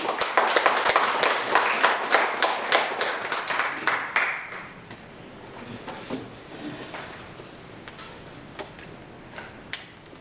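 Audience at a Korean book launch event applauding to welcome a pastor, a loud burst of dense clapping that fades after a few seconds into scattered claps.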